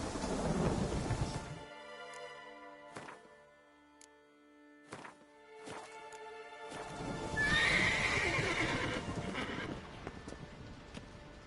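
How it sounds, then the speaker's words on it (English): Horse in a video game, neighing loudly with a drawn-out whinny, then hooves clopping at intervals with quiet gaps between, followed by a longer rumbling whinny and snort, over a steady background rain-like wash. "Whoa there, Roach."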